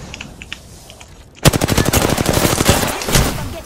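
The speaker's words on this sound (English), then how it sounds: "I'm getting shot at." A sudden burst of automatic gunfire in the video game Apex Legends, rapid evenly spaced shots, loud and close, sustained for over two seconds after a quiet lead-in.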